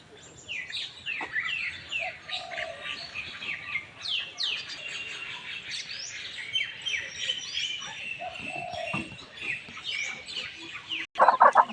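Chickens at a Buddhist temple in Chae Hom, Lampang, cluck and chirp in a scattered, lively chorus of soft calls over quiet surroundings, with a brief louder burst at the end.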